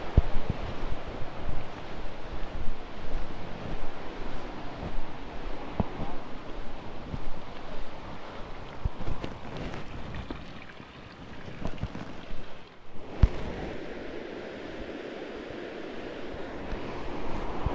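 Rushing water through a stream tunnel built to carry water under to the other side, at a leisure park in the Serra do Caramulo: a steady loud broadband roar with gusty wind noise on the microphone, continuous throughout.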